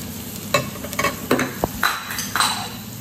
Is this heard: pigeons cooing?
no